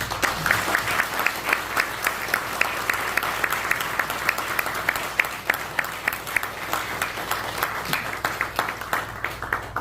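A church congregation applauds a retiring pastor and his wife at a Korean Presbyterian retirement and installation service, with steady, dense clapping filling the hall for about ten seconds and no voices.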